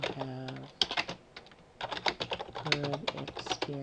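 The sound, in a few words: typing on a computer keyboard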